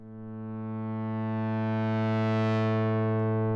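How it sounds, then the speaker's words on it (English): Sustained synthesizer pad patch using a saw wave, a bright buzzy harmonic-rich chord swelling gently in volume and brightness over a few seconds, alone without talk. "we could now take the saw wave instead of this pulse."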